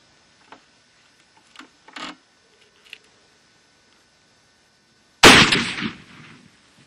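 A single loud, sharp .375 rifle shot with a 270-grain maximum load, fired from a rifle rest at the range, following a few quiet clicks and handling noises before a decaying boom.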